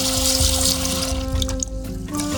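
Tap water runs steadily into a container, a continuous close trickle and splash with no talking.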